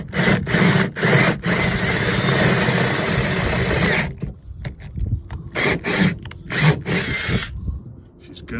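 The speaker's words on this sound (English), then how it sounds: "We're gonna drill holes into the hull." A power drill bores holes into a boat hull, whirring steadily for several seconds, then running in short repeated bursts with brief pauses, loud and close with no talk.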